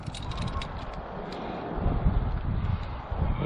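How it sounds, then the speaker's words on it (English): Steady wind buffets the deck of a boat, a continuous low roar with rumbling gusts that swell and strengthen about halfway through, with no voices. "it's definitely got enough wind out here on the deck to function"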